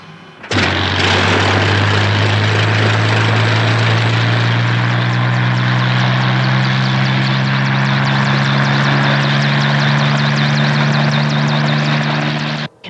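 A loud, steady helicopter drone with a low rotor hum and engine whine, close and continuous, with no talking.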